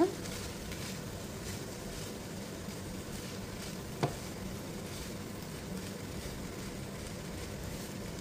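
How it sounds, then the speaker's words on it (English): Boiled rice is stirred into a garlic and turmeric mixture in a pan, a soft continuous sizzle with one brief scrape or clink partway through, quiet and close. "we add in our boiled rice. Roll in and then you stir."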